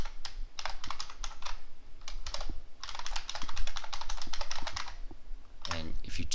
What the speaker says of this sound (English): And I type in my password.